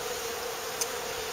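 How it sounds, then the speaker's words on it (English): Honey bees buzzing steadily around a beehive super in a garden, a continuous close insect drone with one brief louder pass. "there's quite a few bees in there helping themselves"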